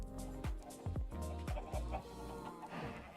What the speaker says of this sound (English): but now we have too many chickens.